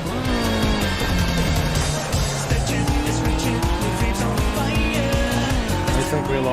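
A racing car in a video game, a loud continuous engine drone with shifting pitch and sustained tire squeal through corners, steady and close throughout, with a voice faintly present.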